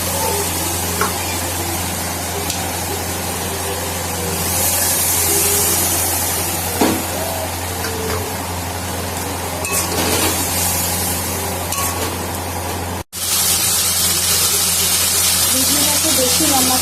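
Spices with chilli powder sizzle and hiss steadily in a hot pan after a splash of water, a continuous loud frying crackle with a brief cut near the end.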